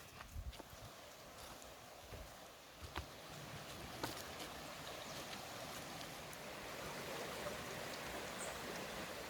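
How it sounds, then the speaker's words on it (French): A small stream flows under a narrow bridge in quiet countryside, giving a faint, steady rushing of water that grows slightly fuller midway, with a few soft knocks early on. "j'entends un peu d'eau là-bas, je crois que je vois un pont"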